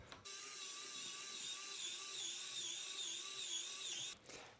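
An apple peeler machine turning and peeling an apple, giving a steady, close mechanical whirring and ratcheting that runs continuously for about four seconds before stopping, with no talking.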